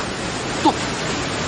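Steady broadband rushing of water fills the whole moment, like a nearby waterfall or fast stream, constant and unbroken with only a tiny blip in the middle.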